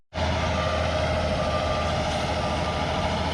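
A truck backs in at a swamp logging clear-cut to pick up a loader, its loud steady engine droning throughout with a continuous high tonal reversing beep over it, close and alone without talk.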